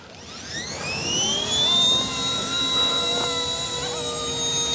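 An RC Era MD500 C189 ready-to-fly RC helicopter spins up for takeoff, its whining motor and rotor tone rising steadily in pitch and then holding a loud, close, continuous hum.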